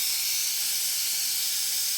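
Steam vents from a pressure cooker as pressure is released, giving a steady loud hiss that stays even from start to finish.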